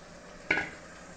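Prawns frying in a pan give a brief scrape and sizzle as a spoon stirs them once, with soft background hiss.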